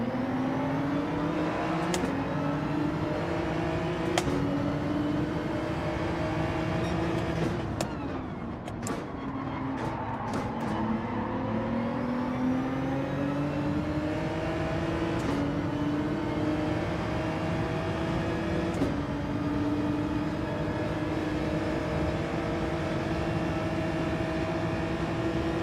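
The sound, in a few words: racing cars colliding in a video game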